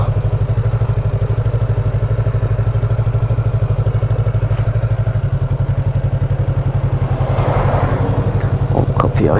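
A motorcycle idles close by with a steady rhythmic engine throb while being parked outside a house, with some clatter near the end.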